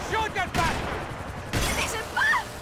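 Gunfire in the Max Payne 3 video game: a few sharp shots in rapid succession, fairly close, mixed with other game sounds and voices talking over them.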